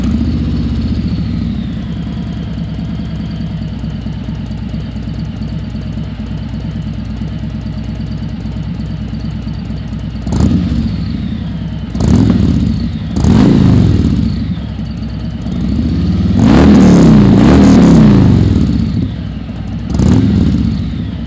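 A 2020 Harley-Davidson Road Glide fitted with Magnaflow slip-on mufflers idles with a deep, loud, steady rumble, then is blipped through several sharp revs, the longest rising and falling near the end.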